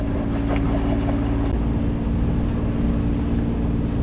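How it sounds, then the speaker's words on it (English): A sailboat motor-sailing across open Lake Michigan far offshore at almost 7 knots, its engine droning steadily and close under rushing wind and water noise throughout, with no voices. "We're still motor sailing to make time to get across, but we're doing almost 7 knots"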